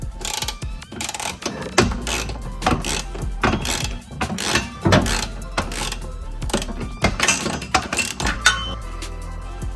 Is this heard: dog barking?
no